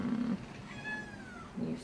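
A shelter cat gives a single drawn-out, rising-then-falling meow at moderate volume, with soft low murmurs just before and after it.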